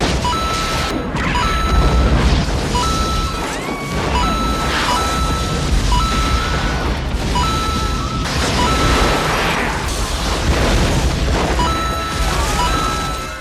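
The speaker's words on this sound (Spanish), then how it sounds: "No le dije, esta es una película de Michael Bay, así que no van a faltar explosiones" Repeated crashing booms and smashes of cinematic explosions from a Michael Bay apocalypse film, loud and layered, with high electronic tones and beeps threaded between the blasts.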